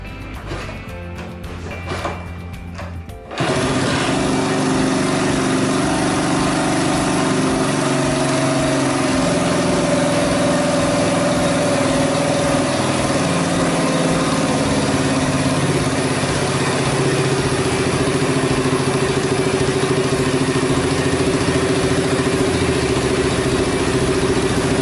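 A Honda Super Cub motorcycle engine, reassembled from a disassembled stored bike, starts after a few seconds of handling noise and then idles steadily and loudly at close range for the rest of the clip.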